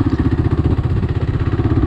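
A motorcycle engine runs steadily close by, a loud, even pulsing idle with a fast regular beat and no voices over it.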